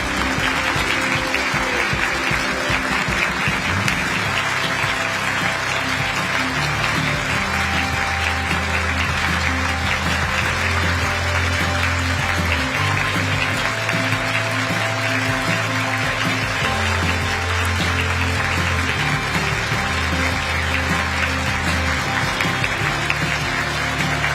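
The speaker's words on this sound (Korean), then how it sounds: "여러분 계속해서 큰 박수로 환송해 주시기 바랍니다." Audience at a presidential meeting with newly appointed civil servants gives sustained, dense, loud applause, steady and continuous for over twenty seconds as the president is seen off, with music and an amplified voice beneath it.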